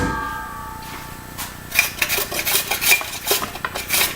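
Kitchen utensils being handled while a grater is fetched for Zucca Lungo: rapid metallic clinks and rattles, a busy cluster of clattering in the second half after a quieter start.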